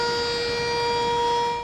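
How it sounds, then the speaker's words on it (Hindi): A civil defense siren in Rawalpindi sounds a flood evacuation warning as one sustained, loud, steady wail that holds its pitch throughout, with no voices. "मकीनों के इनखला के लिए सायरन बजा दिए"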